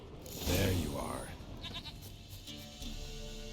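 Goat bleats in The Witcher 3, a wavering animal call near the start over game ambience, followed by a player speaking over the scene.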